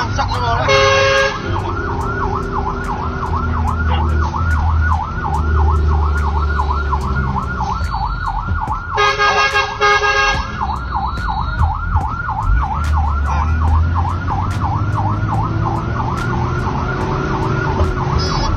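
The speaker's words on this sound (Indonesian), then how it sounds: "suara sirine dan klakson dari mobil damkar terdengar sangat keras" A fire truck in Denpasar, Bali, sounding a loud, close wailing siren that sweeps up and down steadily throughout, with two blaring horn blasts near the start and middle over traffic noise.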